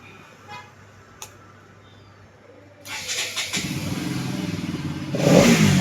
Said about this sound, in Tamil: வண்டி வந்து ஸ்டார்ட் ஆகிடுச்சு.